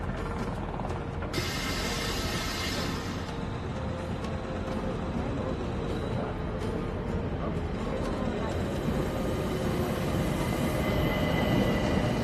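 A train ride plays in a Hercule Poirot video game: a continuous loud rumble of rolling rail wheels with mechanical clatter and rhythmic ratcheting, steady throughout, while a voice talks over it.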